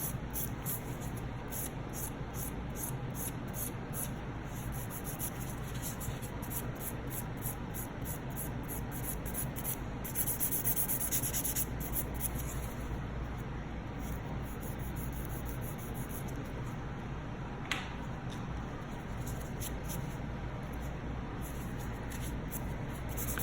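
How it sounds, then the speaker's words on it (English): Steady abrasive rasping of a 180 grit file across an acrylic nail, a continuous close scratchy rubbing sound running throughout with even strokes and no talking. "I'm filing with a 180 grit."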